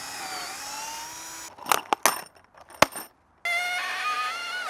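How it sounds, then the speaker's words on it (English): A drill driving a pilot hole into timber for a garden sweet pea frame, heard as a few short sharp bursts and clicks after a stretch of steady background, close and fairly loud, with no talk. "I'm just gonna do the first pilot hole in here now"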